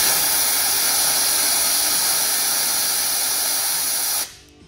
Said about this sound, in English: I'm going to blow the hose out just to make sure there's no contaminants inside it after cutting it.